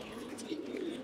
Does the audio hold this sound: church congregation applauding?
no